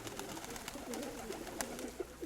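A pigeon coos softly in short repeated phrases against a steady background hiss, sounding fairly close but not loud, with no talk.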